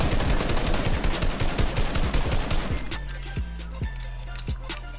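Rapid gunfire in a video game match rattles in a fast, steady automatic burst, then thins into a few separate single shots over a low hum, close and loud.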